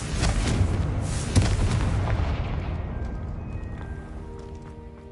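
A Confringo spell explosion in Hogwarts Legacy, a heavy booming blast that starts loud and rumbles, then slowly fades into a lingering tail, with no voices.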